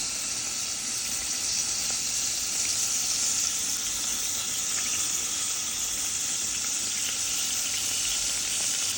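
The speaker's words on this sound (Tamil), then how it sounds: "அடுத்து நாங்கள் எண்ணெயை போட்டுட்டு ஃபஸ்ட்டாக நாங்கள் தாளிக்கிறதுக்குரிய எல்லாத்தையும் போடுவோம்" Spices tempering in hot oil for a Batticaloa-style squid curry, a steady hissing sizzle that stays even and close throughout.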